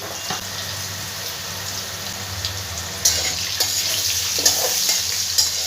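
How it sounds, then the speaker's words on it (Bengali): Potatoes sizzle in hot oil in a pan, a steady frying hiss with occasional stirring clatter and sharper crackles in the second half. "আমি আলুগুলো ভেজে নেব"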